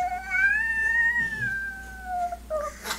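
A toddler's voice imitates a cat's meow with one long, drawn-out wavering cry, fairly close and clear, followed by a shorter squeak at the end.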